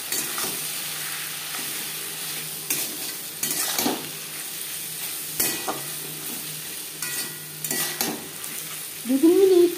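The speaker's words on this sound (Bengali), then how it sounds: "মশলা ও পেঁয়াজের সাথে মাছের ডিম নাড়াচাড়া করে নেওয়ার পর" Fish roe stirred with spices, turmeric, salt and onion in a pan, a steady low sizzle with intermittent scraping strokes of a utensil and a brief louder clatter near the end.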